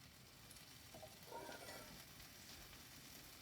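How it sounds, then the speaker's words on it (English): Faint, steady sizzling of French toast frying in a hot skillet, a soft continuous crackle with no voices. "That sizzle is going to be a good indication of just how well it's cooking."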